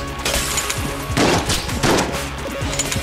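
Shotgun blasts from the top-down shooter game Enter the Gungeon, dense bursts of close, loud gunfire over a busy game soundtrack, with two heavier volleys in the middle.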